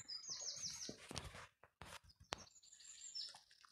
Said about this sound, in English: the birds are chirping away happily